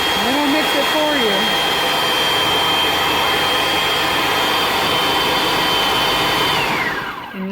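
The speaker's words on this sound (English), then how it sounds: "You just start pureeing, and it'll mix it for you." A blender purees sweet potato with lentil flour into a thick tortilla dough, running with a loud, steady whir for several seconds and then spinning down at the end; a voice talks over it at the start.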